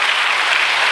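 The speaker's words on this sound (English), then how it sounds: "When I lift my hand, you clap" Loud, close, steady clapping from a seminar audience in Kolkata, the crowd applauding together on cue as an unbroken dense roar of hands with no voices over it.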